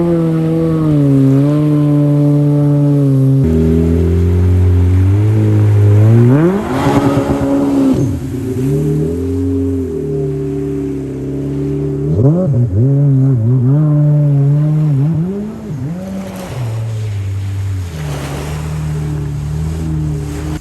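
A supercharged Yamaha FX 1800 jet ski revs on open water, its engine whining up and down through repeated throttle bursts with rising and falling pitch, loud and close, over a faint wash of water.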